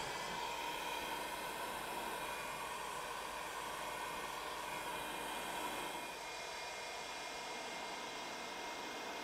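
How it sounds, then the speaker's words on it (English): A hair dryer blows on fresh paint while taping up windows on an 80 Series Land Cruiser, a steady, moderately faint whooshing drone that holds without a break and drops slightly near the end. "hair dryer or blow dryer"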